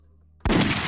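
A single sharp gunshot sound effect bursts abruptly out of near silence, loud and close, with a short noisy decay.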